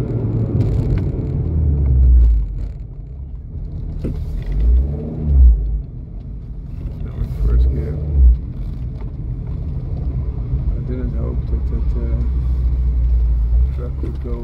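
An Abarth 595C convertible rumbles along the road with a low engine drone that swells and eases in a few brief surges, while a person talks over it throughout.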